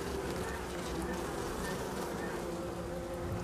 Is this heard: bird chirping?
no